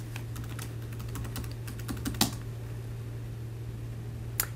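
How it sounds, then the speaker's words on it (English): Keys tapped on a computer keyboard entering an access code, a quiet run of light irregular clicks with a couple of sharper strokes, over a steady low hum. "So I'm going to go ahead and type that in."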